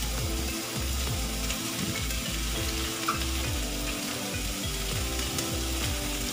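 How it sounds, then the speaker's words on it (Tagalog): Asparagus and mixed vegetables sauté with garlic in a pan, giving a dense, continuous sizzle and frying hiss at close range with a low rumbling undertone and no talking. "Gisa lang natin sa bawang"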